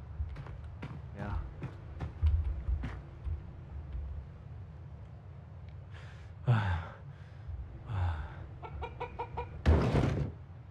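Chicken clucking in the video game Chinese Frontier, a few soft, intermittent clucks and squawks over low background game ambience, with a brief louder burst near the end and no talking.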